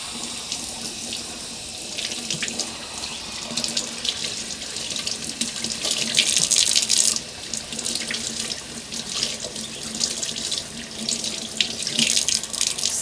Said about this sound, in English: Now I have to wash this eggplant.